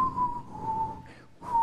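A person whistles a steady high tone on a TV game show set, holding the note with a short break before it resumes, loud and clear over a faint background.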